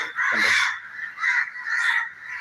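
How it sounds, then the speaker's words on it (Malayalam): A crow caws several times close by, a loud harsh series of raspy calls in an uneven rhythm with short gaps. "കാക്കയുടെ വേളം തന്നെ"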